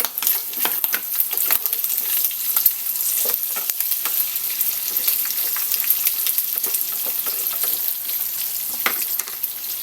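Pork and tofu fry together in a pan, giving a steady, bright crackling sizzle with scattered sharp pops throughout, close and unbroken by talk.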